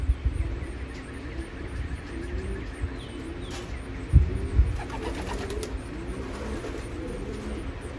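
An imported racing pigeon cock coos softly in a loft, low throaty murmurs repeating amid faint chirps from other birds and a brief bump partway through.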